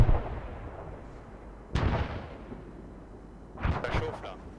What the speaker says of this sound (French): on a un barrage d'artillerie ennemie qui est sur nos avants.